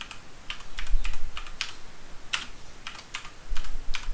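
Fingers type on a computer keyboard in a quiet room, a steady run of light clicking keystrokes in small bursts, close and fairly soft, with no voices.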